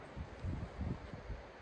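Wind buffets and rumbles against the microphone in low gusts at Gammelstad, Sweden, with a faint rustle behind it and no talking.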